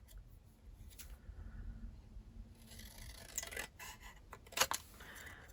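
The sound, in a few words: long shears trimming a paper sentiment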